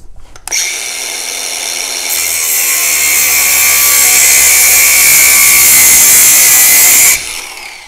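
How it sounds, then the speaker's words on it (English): A cordless grinder cuts through thick electrical wire, the motor spinning up to a loud, close, high-pitched whine that grows harsher as it bites into the cable, then stops abruptly after several seconds. "I recommend a cordless grinder."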